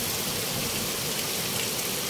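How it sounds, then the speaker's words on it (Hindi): Heavy rain pours down outside in a dense, steady hiss that stays loud and unbroken throughout, with no voices. "अभी ऐसे में बारिश देखो देखो भयंकर बारिश हो रहा है"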